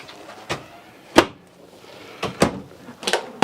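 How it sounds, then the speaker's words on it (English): A drawer in a 2018 Winnebago Minnie Winnie 22R Class C motorhome slides open and shut, giving four or five sharp knocks and thuds at close range in a quiet interior. "Full pull on your drawers."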